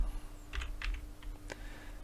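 A handful of quick keystrokes on a computer keyboard, close and crisp, in a short irregular burst over a quiet room hum.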